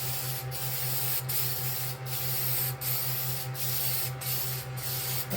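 Lacquer spray from a can or gun coats a DIY JEM-style guitar kit body in a steady continuous hiss, with a low hum underneath and brief breaks as each pass ends, close and fairly loud.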